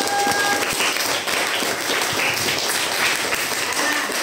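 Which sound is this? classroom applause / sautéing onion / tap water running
classroom applause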